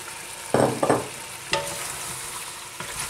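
Tomatoes and onion stewing in a pan, with a steady low sizzle under two short scraping stir bursts early on and a couple of sharp utensil knocks later, close and fairly quiet.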